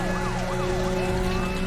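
A police car siren in the racing video game Need for Speed The Run wails continuously and loudly, rising and falling over a dense engine roar.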